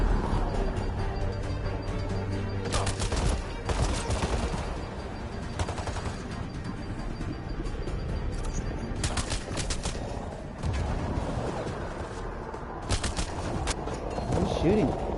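Gunfire from the video game Mass Effect Andromeda, with bursts of rapid shots around the 3, 9 and 13 second marks over a steady rumbling game soundtrack, with voices talking in between.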